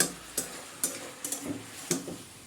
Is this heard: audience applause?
no